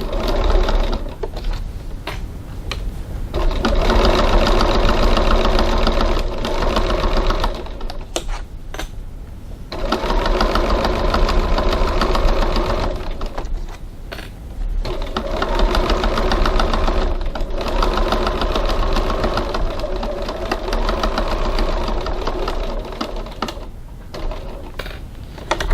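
Sewing machine topstitching a bag at a 3.1 stitch length, a loud steady motor whir with rapid needle chatter in long runs, briefly pausing and restarting.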